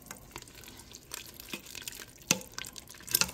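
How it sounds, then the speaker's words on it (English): Chicken and dumplings are stirred in a pressure cooker, faint wet clicks and soft liquid splashes scattered irregularly, quiet and close with no talk. "we're just going to give this a little stir"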